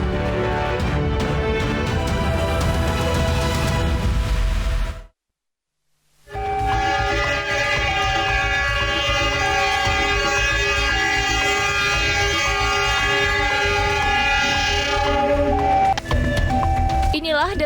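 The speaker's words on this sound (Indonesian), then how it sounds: "Dalam video tersebut terdengar cukup jelas suara lokomotif kereta" A train locomotive sounds its horn at a railway crossing where navy buses crossed. The horn blares loudly and steadily over rumbling wheels, breaks off for about a second, then continues long and sustained to the end.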